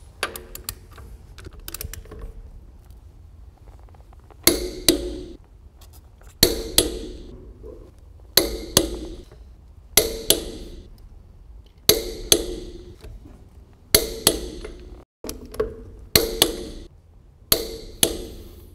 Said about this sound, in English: now we're ready to apply our final torque to these lug nuts